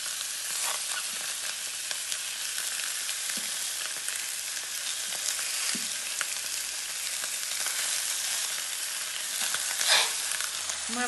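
Chicken pieces fry in oil in a pot for plov, a steady close hiss and crackle running throughout with occasional faint knocks, no talking.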